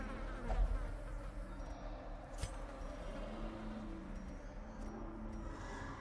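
Insects swarm in a twisted hive in the game Darkest Dungeon, a faint, continuous buzzing drone with a brief click partway through.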